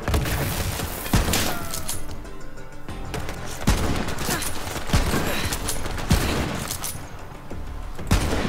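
Rapid gunfire in Borderlands 3, sharp shots cracking out in repeated bursts over a dense, continuous battle din, loud and close.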